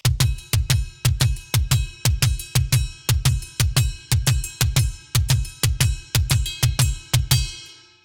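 A bass drum and ride cymbal struck together in a steady, even beat, each low thump paired with a ringing metallic ping, about two hits per second, close and clear, ending with the cymbal's fading shimmer.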